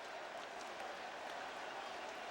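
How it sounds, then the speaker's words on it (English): Stadium crowd at a Braves–Mets baseball game roaring steadily after a Mike Piazza two-run home run, a dense continuous wash of cheering and shouting with no pauses. "This crowd was ready. They wanted to shout and scream all night."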